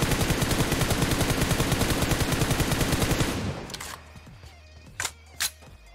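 Rapid automatic gunfire from PUBG Mobile, a dense fast burst for about three seconds, then it stops and a few separate sharp shots follow with quieter gaps between them.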